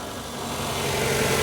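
The Mitsubishi Orion engine of a Proton Impian idles steadily in a close, continuous rumble with a faint ticking texture. The sound builds slightly louder over the stretch, with no talking over it.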